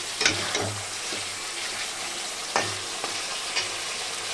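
Fish coated in black cumin paste sautés in a pan, a steady sizzle broken by scraping stirs and clinks of a spatula at irregular moments, close and fairly quiet with no voices.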